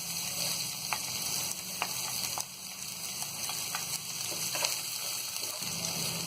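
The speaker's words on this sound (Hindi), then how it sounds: "अब इसमें हम ये हरी मिर्च को डाल देंगे।" Green chillies frying with potatoes in a pan give off a steady, close sizzle, with a few faint clinks from stirring.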